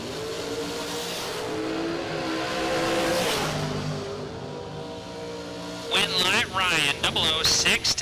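Drag race cars launch and accelerate at a double breakout drag race, a loud steady engine roar under continuous announcer commentary, then sharper rising revs near the end.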